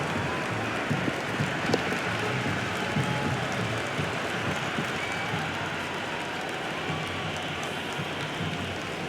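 A huge cricket stadium crowd roars in the Cricket 26 video game during an MI vs CSK match, a dense, continuous wash of cheering and clapping that holds steady throughout without dropping.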